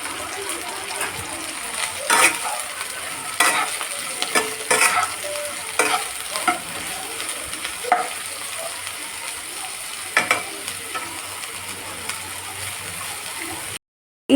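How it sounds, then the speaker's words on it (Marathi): Steady sizzling of bitter gourd frying until crisp in a pan, with intermittent scraping and stirring clatter on top, moderately loud and close. "छान खरपूस असं आपल्याला हे भाजायचं आहे"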